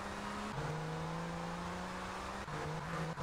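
A car in GTA 3 drives at a steady engine drone, shifting gear partway through, then holds a higher steady note and shifts again near the end. The engine is continuous and fairly quiet, with no talk.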